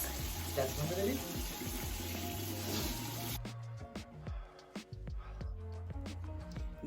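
Water runs from a tap while a face mask of turmeric and other ingredients is rinsed off, a steady rush with splashing that cuts off midway, followed by soft drips and handling noises.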